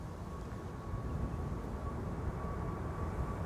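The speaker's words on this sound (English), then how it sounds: "China Southern Cargo flight 2694 going to Guangzhou in China. It is a 777 freighter." A China Southern Cargo Boeing 777 freighter rumbles past at Amsterdam Schiphol Airport as a steady, broad, distant roar with a faint tone above it.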